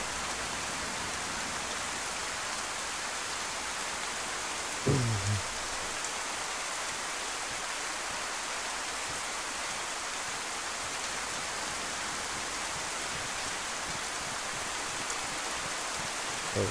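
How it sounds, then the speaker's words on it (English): Steady rainfall in the video game DayZ on the Livonia map, a dense even hiss of drops on surfaces throughout, with one short dull thump about a third of the way in. "I need this rain to stop or it can become daylight."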